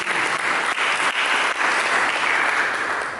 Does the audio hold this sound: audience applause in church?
yes